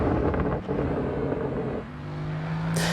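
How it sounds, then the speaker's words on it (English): A car in Assetto Corsa EVO heard from outside, its engine a steady loud drone with rising and falling pitch, buffeted by wind noise and ending in a brief hiss. "This car does not sound great from the outside at all, does it?"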